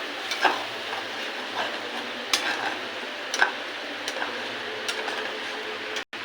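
Mustard paste, tomato and green chilli frying in oil with black cumin, a soft, steady sizzle with scattered light ticks and stirring taps, fairly quiet and close.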